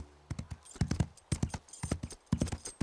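Cartoon horse hooves clip-clopping in a quick, uneven rhythm of sharp close knocks throughout, with no talking.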